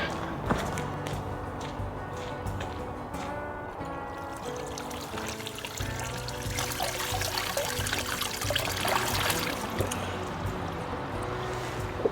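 Spring water trickling and splashing at a source along a Swedish coastal hiking trail, a steady close babbling flow with bright gurgles throughout, no talk.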